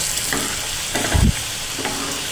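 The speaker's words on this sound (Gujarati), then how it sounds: "હવે આપણે તેને ચમચા વડે હલાવી લઈશું" Potato chips frying in oil hiss steadily while a spoon stirs through them, with one brief low knock of the spoon against the pan in the middle.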